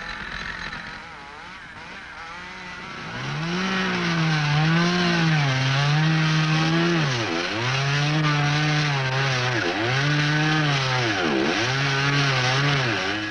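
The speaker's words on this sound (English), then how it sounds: "His top cut is not going to join up accurately with his bottom cut." A chainsaw cuts into a standing tree during felling, its engine rising and dipping in repeated revving cycles as the chain bites, loud and close with no talk over it.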